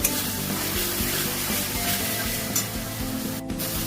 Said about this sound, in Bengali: মশলাটা খুব ভালো করে কষতে হবে বন্ধুরা, যাতে আদা রসুনের কাঁচা গন্ধটা না ছাড়ে।